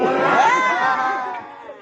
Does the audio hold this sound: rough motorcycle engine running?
no